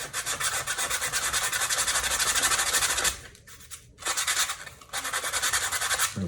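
Close, steady rasping strokes of sanding on a foam core shoe sole, a quick rhythmic scrubbing that breaks off briefly midway, then resumes.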